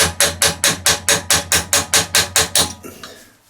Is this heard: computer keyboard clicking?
no